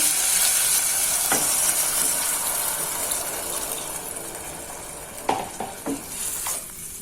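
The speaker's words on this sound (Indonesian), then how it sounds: "Jadi tadi untuk ayamnya ditumis ya sampai matang, berubah warna kayak gitu ya." Chicken stir-fried in a pan, a strong continuous sizzle close up, fading slightly over time, with a few scraping stirs and clinks near the end and no talking.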